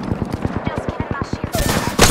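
Rapid automatic gunfire in Apex Legends, a steady stream of about a dozen evenly spaced close shots, then a louder noisy burst at the end.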